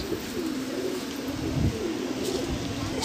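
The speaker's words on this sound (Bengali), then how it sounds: "আরেকটি পায়রা দেখুন" Pigeons in a loft give soft repeated low cooing calls, a few birds overlapping at close range against a steady background hum.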